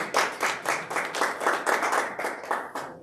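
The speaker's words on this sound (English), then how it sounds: "Give yourself a round of applause." Attendees at a UN side event on Women's Day clap, a fairly soft but steady patter of hands from a small audience lasting a few seconds.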